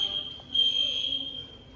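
A fire alarm sounds a steady, piercing high-pitched tone that holds continuously throughout, moderately loud and swelling slightly midway.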